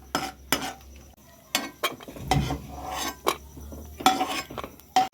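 A metal spoon scrapes and clinks against a pan while fried moong dal is moved onto a plate, a series of sharp close taps and scrapes at an irregular pace.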